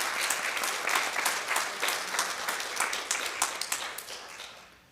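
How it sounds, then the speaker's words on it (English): A synagogue congregation at a Friday night Shabbat service applauds together, a dense, steady round of clapping that holds strong before tapering off at the end, with no voices over it. "One more round of applause."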